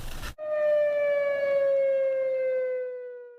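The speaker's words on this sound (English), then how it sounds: "It's part of Montreal's annual siren test." An industrial emergency siren, sounded in Montreal's annual siren test, rises abruptly after a brief burst of noise, then holds a steady, loud tone that slowly sags in pitch, sounding alone.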